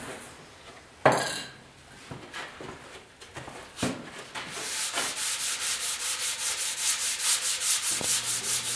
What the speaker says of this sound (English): Now the underneath, I am going to just hit that with a sander.